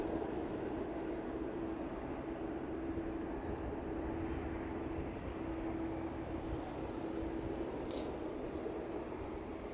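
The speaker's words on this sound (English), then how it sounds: "Maersk 767 in from Belfast this evening then" A Maersk Boeing 767 cargo plane arriving at East Midlands Airport on an evening approach from Belfast, its broad, steady jet roar holding loud and constant throughout with a faint sustained engine tone running beneath.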